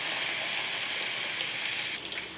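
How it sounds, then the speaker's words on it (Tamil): Steady, loud sizzling hiss from chili-powder masala frying in a pan for a rock-fish curry, shifting and dropping slightly near the end as prepared curry gravy is poured in; no talking. "அடுத்து வந்து நம்ம ரெடி பண்ணி வச்சுருக்க குழம்பு ஊற்றிக்குவோம்"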